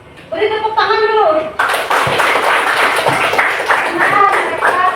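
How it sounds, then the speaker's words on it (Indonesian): Clapping from a classroom group applauding students after a presentation, a burst of many hands that starts abruptly and carries on steadily, mixed with chatter and talk. "Beri tepuk tangan dulu."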